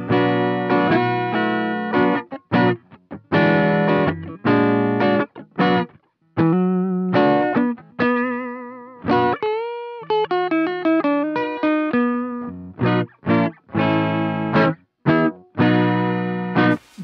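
Loud electric guitar through a ZT Lunchbox amp with an overdrive preamp pedal and crunchy overdrive plays chopped chords and sustained bent notes, stopping and starting in bursts with brief silences.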